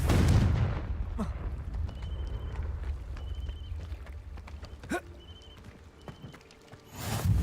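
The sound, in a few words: Confringo explosive spell in video game Hogwarts Legacy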